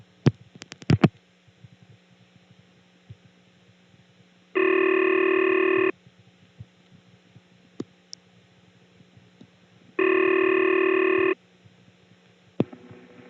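A 1970s step-by-step telephone exchange in Birdsboro, Pennsylvania, gives its 'milk can' switching sound: two loud, steady, hollow tone bursts of about a second and a half each, separated by quiet clicks and low hum.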